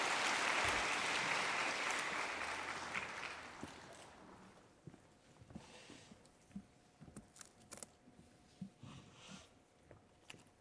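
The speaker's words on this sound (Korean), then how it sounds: "박수로 모시도록 할까요?" A church congregation claps to welcome a deacon forward for testimony during Sunday worship, a dense broad wash of applause for about four seconds that thins into scattered, fading claps and small shuffles.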